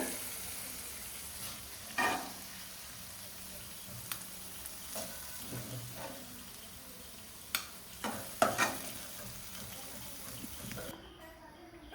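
Tomatoes softening in hot oil in a pan give a steady low frying sizzle throughout, with a few sharp clinks and stirring knocks near the middle and later, and the sound cuts off just before the end.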